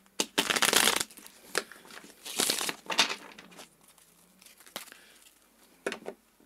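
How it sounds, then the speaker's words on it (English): Tarot cards being shuffled in several crisp riffling bursts, close up, with short pauses between and a few lighter taps near the end. "Okay, I'm going to shuffle."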